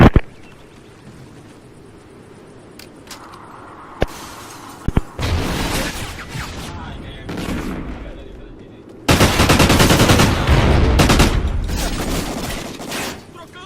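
Several bursts of rapid gunfire crack out in a multiplayer bomb-objective match soundscape, with a long, loud sustained volley near the end over a low background hum.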